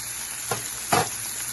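Onion, tomato, chilli and curry leaves fry with salt in a pan for an egg white curry, giving a steady sizzle with two short scraping stirs, close and loud, with no talking.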